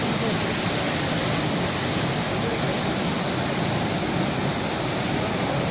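The Kapila Theertham waterfall gives off a dense, unbroken roar of rushing water, loud and even from start to finish, with no voices.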